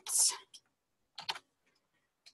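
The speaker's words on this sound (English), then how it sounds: "And then you just start typing." Computer keyboard typing of text, a few short bursts of clacking keys separated by pauses, fairly quiet and close.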